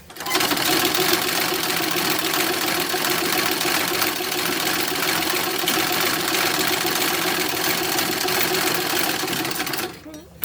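A sewing machine runs steadily, quilting layers of fabric for the brim of a 1910s-1920s style toddler hat, its fast even whirr continuing without pause for about ten seconds before stopping near the end.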